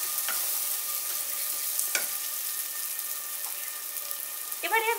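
Bottle gourd pieces tossed into a hot pan of spiced moong dal mixture for Bengali lau ghonto, giving a steady low sizzle with a few sharp spoon scrapes and a brief clatter near the end.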